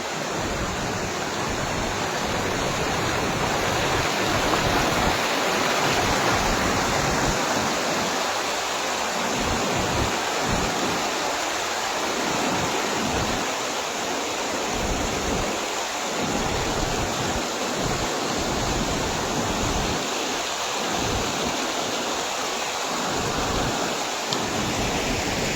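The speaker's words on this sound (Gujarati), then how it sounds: "જો આવું કાંઈક પાણી જાય છે હો" Water pours from an overflowing lake at Ramdhari in a steady, loud, continuous roar that stays even throughout, with deep low rumbles swelling and fading beneath the constant broadband rush.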